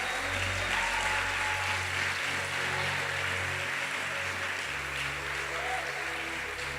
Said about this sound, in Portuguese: Dê um aplauso a esse Deus maravilhoso.